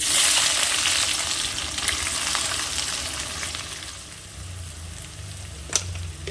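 Chopped onion dropped into hot oil with dried chilli and bay leaf for a mutton curry, a loud burst of sizzling that settles into steady frying crackle, close and without talk.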